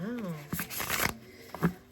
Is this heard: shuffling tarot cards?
yes